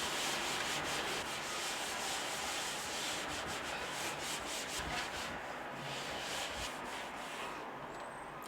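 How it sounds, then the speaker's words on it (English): A damp cloth is wiped steadily over a greasy kitchen cupboard, giving continuous close rubbing strokes that run throughout with no talking. "any cleaning cloth that you have got, make sure that it's damp"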